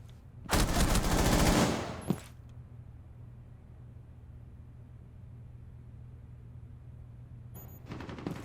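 Automatic gunfire rattles in a fast, loud burst of roughly a second and a half during a video game match, followed by a single sharp report, a quiet stretch, and another brief burst near the end.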